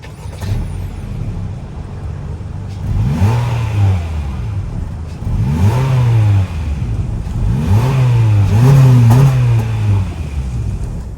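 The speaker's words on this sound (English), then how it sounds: "that was the sound of the 2-liter naturally aspirated 4-cylinder engine sold by Honda for the 2024" A 2024 Honda Civic Sport Hatchback's 2-liter naturally aspirated 4-cylinder engine idles, then blips through three or four loud, close revs that rise and fall, the last one held longer.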